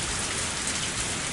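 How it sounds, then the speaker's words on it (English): Heavy rain pours down at night in a steady, dense hiss that stays loud and unbroken throughout, with no voices over it. "It was raining far too hard to see the moon."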